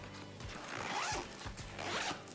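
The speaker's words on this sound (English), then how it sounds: "I want to unzip the compression part of the cubes so I can really show you." Compression packing cubes being unzipped, a close, quiet run of repeated zipper rasps in quick succession, heard alone without talk.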